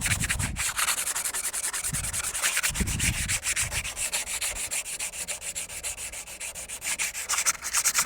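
Surface being sanded by hand with sandpaper on a motorhome before gluing a solar panel, a rapid rhythmic back-and-forth rubbing with a few heavier strokes, close and continuous.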